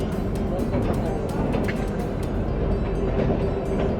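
A Kalka–Shimla toy train runs through a long tunnel, giving a steady enclosed rumble with rhythmic clicking of the wheels, heard from on board with people talking over it.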